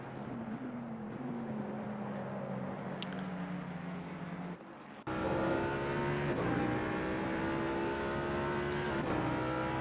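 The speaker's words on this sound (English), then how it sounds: "you can hear the noise resonating off the wall and back in" Racing engines drone and whine at high revs, one fading before a louder car roars close by, its note sustained and echoing off a wall at Kyalami circuit.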